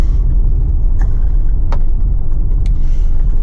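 Steady loud engine rumble of a car rolling into a car park, with a constant low drone and a few brief clicks and creaks on top.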